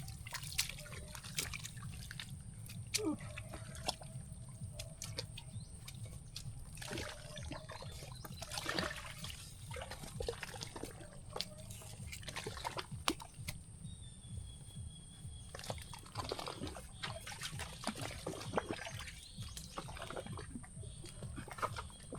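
Steady trickling and dripping water, a continuous light splashing pour with scattered drops, fairly quiet and close, no talking.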